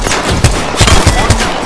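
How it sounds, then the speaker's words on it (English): Gunfire in an Apex Legends-style battle royale match, a string of sharp shots in quick bursts layered over a busy game soundscape with a faint voice line. "Taking fire! It's not safe here."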